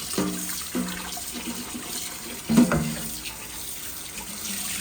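Chopped meat pieces being rinsed under a running kitchen tap, a steady close water flow with intermittent splashing and clatter as the pieces are handled in the sink.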